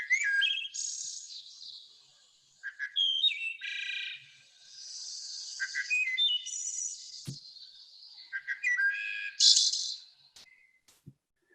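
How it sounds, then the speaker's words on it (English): A wood thrush sings its flutelike song, several clear phrases of rising and falling whistled notes separated by short pauses, fairly close and alone with no talk. "that wood thrush sings that song"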